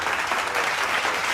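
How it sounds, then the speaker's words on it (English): Steady applause from a crowd fills the whole moment, dense and even without breaks, loud and close with no voices standing out. "I clapped when I saw it."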